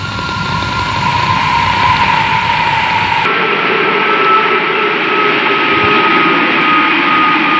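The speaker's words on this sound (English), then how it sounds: "That's the plane." Airplane engine sound effect in a song: a loud, steady jet roar with a tonal whine, changing character abruptly partway as the engine pitch and texture shift, continuous to the end.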